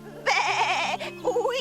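A little cartoon goat from an animated Grimm fairy tale gives one long, wavering, nasal bleat at close range, then a shorter, softer bleat follows.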